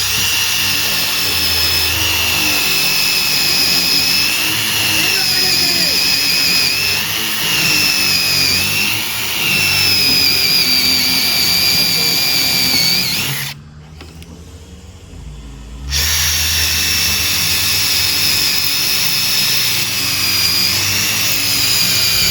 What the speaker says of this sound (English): So you pre-drill the screw holes.